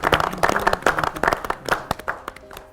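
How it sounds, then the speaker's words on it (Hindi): A burst of applause for the winning team of a history quiz, with loud, brisk hand claps that rise sharply, then thin out into scattered, uneven claps over a few seconds. "विजेता टीम के लिए जोरदार तालियां क्रांति टीम के लिए"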